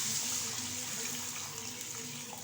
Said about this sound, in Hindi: इसलिए अब हम इसमें पानी डालेंगे 3 कप